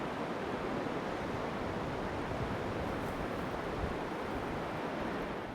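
Windy ocean waves on a beach make a constant, dense roar of surf and wind noise that stays loud and unbroken throughout.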